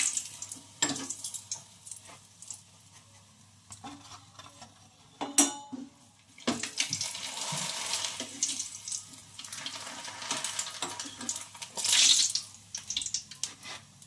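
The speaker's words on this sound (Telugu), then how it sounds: "ఇంకలోపు గిన్నెలు అయితే తోమేస్తాను" Dishes are scrubbed under a running kitchen tap, with water splashing steadily and pots and utensils clinking and knocking now and then at close range.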